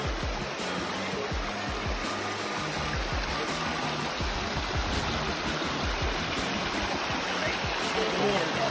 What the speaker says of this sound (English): Enjoy the sound of the water, the river is like just so amazing at this moment.